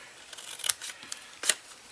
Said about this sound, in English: take your scissors and you're going to cut up on each one of those little score lines right there